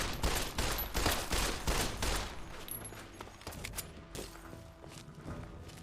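Shotgun blasts in Fallout 3 played through the Tale of Two Wastelands mod, as a run of muffled booms and thuds that fade into softer, scattered shots and movement sounds.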